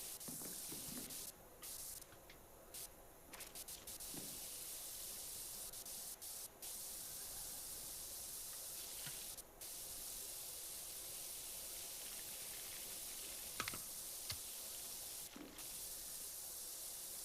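A power washer in the game Powerwash Simulator 2 sprays water in a faint, steady hiss that runs continuously, with a few soft clicks and bumps along the way.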